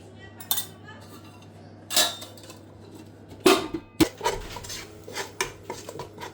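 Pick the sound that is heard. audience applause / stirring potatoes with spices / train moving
stirring potatoes with spices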